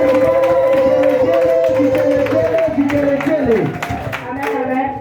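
A church congregation at a children's Christmas service claps along under loud singing, a steady rhythmic applause beneath the voices and music.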